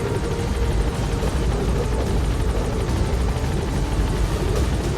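Helicopter in the video game Metal Gear Solid V: The Phantom Pain, a loud, steady rotor roar with continuous rumbling chop throughout, heard alone without talk.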